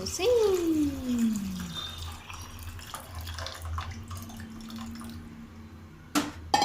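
Tamarind extract is poured into a pot of dal pulusu in a home kitchen, making a soft, splashing trickle of liquid. Someone talks over the pouring, and there is a brief clink near the end.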